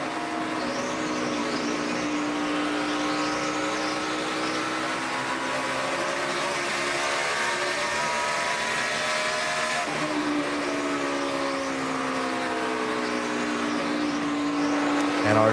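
A NASCAR stock car at the 2013 AAA 400 runs with its front wheels chattering, a continuous harsh engine whine with sweeping tonal bends and a brief break, commentary murmuring underneath.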